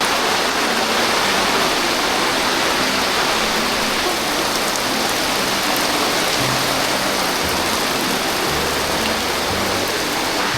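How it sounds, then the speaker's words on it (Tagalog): Steady heavy rain pours down on a family campsite beside a minivan with a failing awning, a dense, continuous wash of close drumming with no voices. "Medyo chill pa ang ulan, pero ang tubig, hindi na chill."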